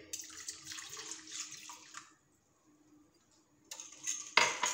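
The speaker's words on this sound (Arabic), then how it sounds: "نزيدو هذاك الكاس تاع الحليب" Milk poured from a glass into pancake batter in a home kitchen, a soft liquid splash with light clinks of a bowl and utensils, then a pause before louder clattering at the end.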